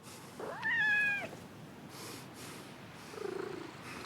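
A cat in the Assassin's Creed Mirage video game gives one clear, drawn-out meow, followed later by a brief low purr over quiet ambient game background.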